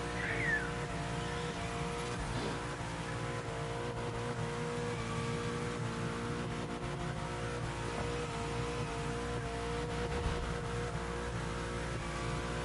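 A race car engine in the Motorfest video game holds a sustained, buzzing drone at the rev limiter, with steady high revs throughout.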